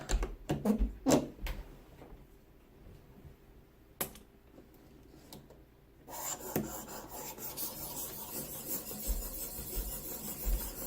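ViperSharp guided knife sharpener working a fillet knife: a few short rasping rubs, then a steady, louder continuous scraping stroke that runs to the end, close up with no talk.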